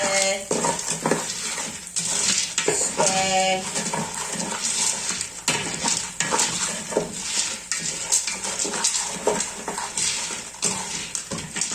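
Popcorn kernels being stirred in a pot for caramel popcorn: a busy, continuous scraping and rattling with a soft frying sizzle beneath and frequent sharp clinks against the pot, steady and close throughout.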